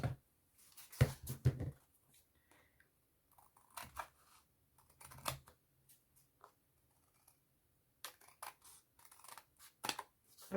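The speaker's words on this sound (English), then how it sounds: "I'm just trimming down my card here." Scissors trim gold card for watercolor work in several short, faint bursts of snipping, with quiet gaps between the cuts.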